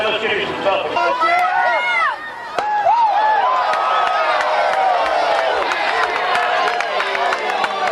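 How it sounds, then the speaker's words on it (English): A minor-league baseball crowd in Midland, Texas, cheers late in a close game, with a loud, lively mix of shouts, whistles, whoops and scattered clapping that briefly dips and then surges back. "the crowd in Midland certainly is into it as any place we've been at this point"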